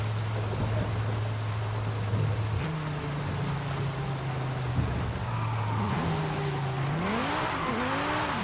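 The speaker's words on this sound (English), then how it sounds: "This is a full bolt-on Viper engine." Fully built Viper V10 engine without boost in Forza Horizon 5, a loud steady drone that rises through gear changes, with tire squeal and a climbing rev near the end.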